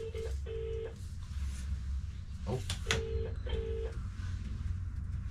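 Touch-tone telephone keypad dialing: a series of short steady beeps in uneven pairs and singles, clear and close, with a faint voice at one point.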